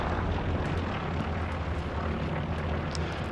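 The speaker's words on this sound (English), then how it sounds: "Recon plane coming up." A recon plane passing overhead in a war video game, a broad steady engine drone with a dense rumble held at one level throughout, with no talk.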